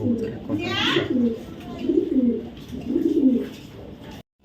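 Soft, low cooing of a male racing pigeon repeats in a steady rhythmic pattern over a background hum, with a brief higher chirp near the start.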